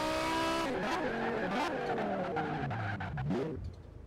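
A BMW M5 with its stock engine roars loudly in Forza Horizon 4, the revs rising and falling through several gear changes before easing off near the end.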